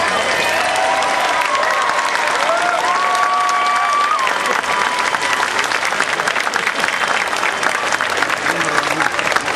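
A town hall meeting audience breaks into full, sustained applause that holds at a steady, loud level for the whole stretch, with a voice briefly audible over the clapping early on.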